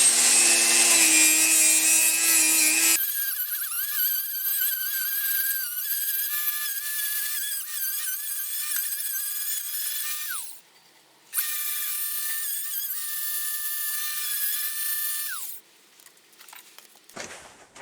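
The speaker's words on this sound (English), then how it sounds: "I got a sanding wheel here, so just gonna polish it up 80 grit and then move on to a higher grit" An 80-grit sanding wheel grinds and polishes a railroad spike seax blade, giving a loud, sustained high whine with one brief break before it winds down and stops.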